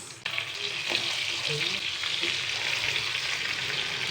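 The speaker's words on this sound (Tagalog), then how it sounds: "dito natin nagigisa yung mga sibuyas" Onions, ginger and garlic sautéing in a pan give off a loud, steady close-up sizzle that starts abruptly and holds constant, with faint stirring underneath and no talk.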